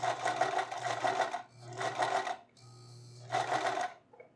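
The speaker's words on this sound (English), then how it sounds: "I've gone to a zigzag stitch and I've done it nice and tight. I go across a handful of stitches." A sewing machine stitches a tight zigzag stitch in three steady motor-driven bursts of rapid needle chatter, each lasting about a second, separated by short pauses with a faint higher whine in one gap. Close and clear, with no talking.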